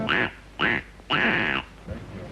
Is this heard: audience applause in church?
no